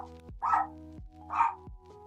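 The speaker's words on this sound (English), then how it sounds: "Hopefully the dog barks are kind of muffled" A dog gives two muffled barks about a second apart, fairly quiet and slightly distant, over a low steady tonal background hum.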